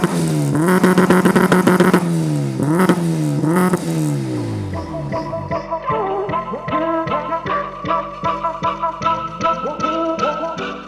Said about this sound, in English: Bro, the revving sounds really nice.